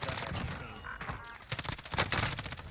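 Gunfire in Call of Duty Warzone: a quick fusillade of distant shots, bursts of rapid fire overlapping in an irregular rhythm, fairly quiet and continuous across the short stretch.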